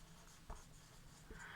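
A teacher writes on a board in a classroom, producing faint, brief scratchy strokes and light taps over quiet room tone, with no voice.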